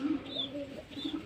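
Racing pigeons coo close by in low, repeated throaty murmurs, soft and continuous, with faint chirps in the background.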